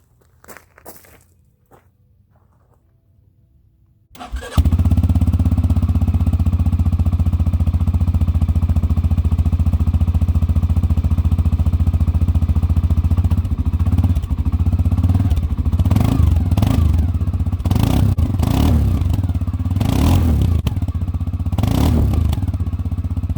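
A CF Moto Cforce 600 Touring ATV with an upgraded exhaust tip starts up after a quiet stretch, then idles in a loud, steady, deep rumble heard from a short distance, with a few brief revs and clatter late on.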